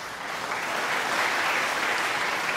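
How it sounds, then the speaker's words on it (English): At the Masters snooker tournament, a crowd applauds steadily, a dense, even patter of many hands clapping at moderate loudness that holds throughout without a break. "Great buzz around the crowd again after those two frames from Ronnie O'Sullivan."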